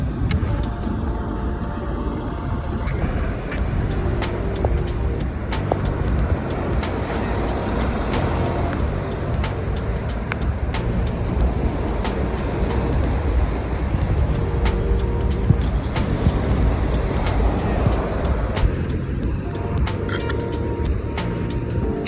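Beach sand sifting machines at work on Redington Beach, Florida, give a steady, continuous mechanical roar with rumbling engine drone and frequent sharp rattles and clanks scattered throughout, heard from a short distance.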